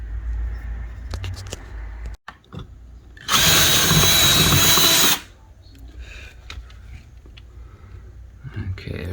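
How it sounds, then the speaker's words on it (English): A power drill bores through a house wall for a ductless mini split heat pump line, one loud sustained burst of about two seconds against quiet surroundings. "we drill."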